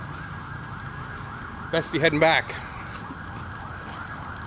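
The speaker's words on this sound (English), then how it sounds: "I guess getting hit by an ambulance wouldn't be so bad." An ambulance siren wails along a street in Hua Hin, Thailand, rising briefly and loudly in the middle as the vehicle passes, over steady traffic hum, with someone speaking briefly.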